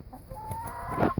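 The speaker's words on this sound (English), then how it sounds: "Ralph's showing off now. He's doing some extra crowing for you." Ralph the rooster lets out a single rising crow among his hens, fairly close and moderately loud, with a few soft clucks around it and no talk.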